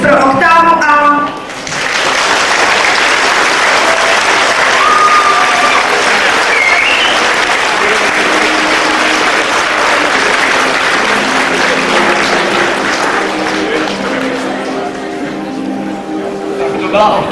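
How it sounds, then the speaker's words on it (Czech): Graduating school class honored with loud, sustained audience applause at a 1997 school-leaving ceremony; a brief voice or tones open it, then dense clapping rolls on for many seconds before fading as sound returns. "Poslal bych potlesk pro oktávu A."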